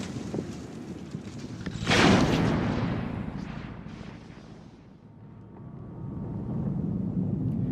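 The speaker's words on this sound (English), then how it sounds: "It explodes itself and the mine at the same time." A wind-powered Mine Kafon detonator sets off a landmine, giving a single loud, broad explosive blast about two seconds in, followed by a long decaying rumble that fades and swells again.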